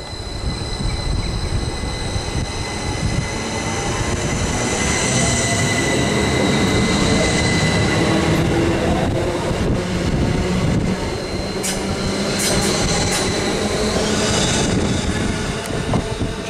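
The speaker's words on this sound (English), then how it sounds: "And now departing off platform number 3 at Skipton is" Class 333 electric multiple unit 333005 pulls away from platform 3 at Skipton station, a steady loud rolling rumble with motor whine and occasional wheel squeals building through the departure, no talk.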